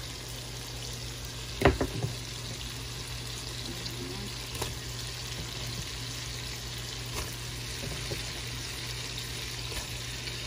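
Jackfruit goes into a pan of shrimp for ginataan, with a brief cluster of clattering hits near the start over a steady low hum and faint background sizzle.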